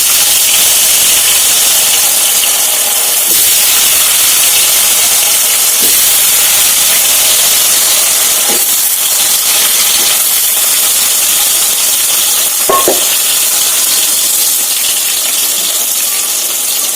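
Raw banana pieces sizzling in hot oil with turmeric make a loud, steady frying hiss, broken by a few faint clinks of a utensil against the pan, with no talking.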